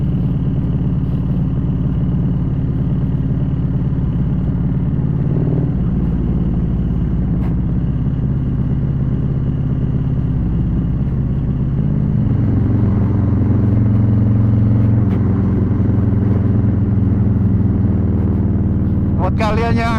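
A heavy Harley-Davidson CVO Road Glide 2032 cc Stage IV engine rumbles loudly nearby, deepening and revving harder partway through, while people talk over the noise.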